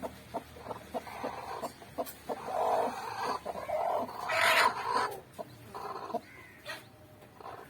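A native country hen brooding on eggs gives soft, repeated clucks and low murmurs close by, with other fowl and faint farmyard noise around.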